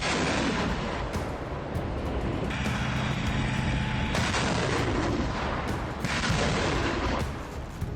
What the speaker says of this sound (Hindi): सौ दिन से यूरोप की सरहद वाले मुल्क में इसी तरह का बारूद बरस रहा है।